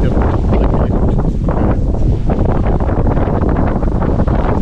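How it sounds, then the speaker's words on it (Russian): Strong wind on a canal buffets the microphone in a constant heavy roar, with gusty rumbling throughout and no voices. "Ветер пришел."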